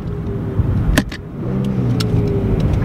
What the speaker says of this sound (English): And then now listen for the downshifts